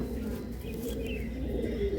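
Pigeons at a pigeon sale, soft low cooing throughout the short moment, close by but quiet, with a faint chirp mixed in.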